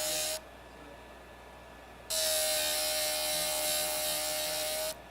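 A JOOLTOOL grinder shapes a turquoise slab into a cabochon with a steady high whirring grind that runs for a moment, stops for a quieter hum, then starts again for several seconds, close and loud, with no talk.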